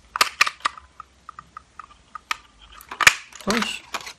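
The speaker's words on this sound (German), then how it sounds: "kann ich mir erst noch mal einen Ballon ausstanzen mit der Ballonstanze" A small balloon shape is punched from paper with a craft punch, giving sharp clicks and crunching snaps spread over a few seconds, with someone talking around the mechanical sounds.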